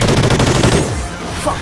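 Automatic gunfire from a gun in the video game Call of Duty: Ghosts: a loud, fast, close stream of shots that rattles for most of a second and a half and then trails off into a dense wash of noise.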